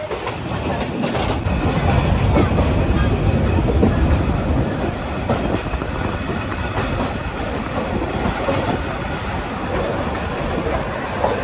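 The Suborno Express passes through Tongi junction station in Bangladesh with a loud, continuous rumble and rhythmic clickety-clack of wheels over rail joints, steady throughout.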